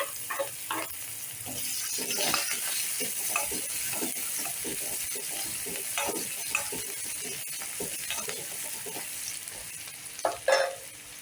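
Chopped medium onion frying and being stirred in a pan for a Tamil paruppu urundai kuzhambu, a steady sizzle broken by repeated scraping stir strokes, close and moderately loud with no talk.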